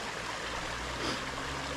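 Waterfall in Snowdonia spilling into a small pool, heard as a steady close-up rush of water that holds constant throughout without a break.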